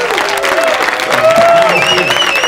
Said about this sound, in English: Can we please get a loud round of applause for Mr. Derek Haas?